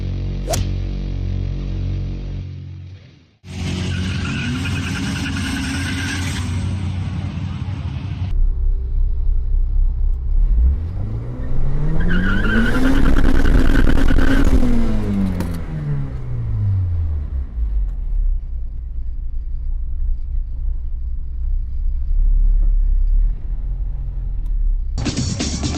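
Honda Civics race at a drag strip: engines idle and rumble, then one car roars past with a rising and falling pass, loud and close, followed by lingering engine noise and wind.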